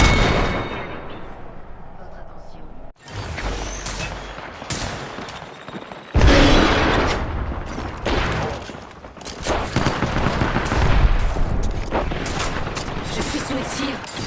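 Video game gunfire comes in heavy bursts of rapid shots and booming impacts, loud and close, broken by a brief lull, with a voice talking over the action.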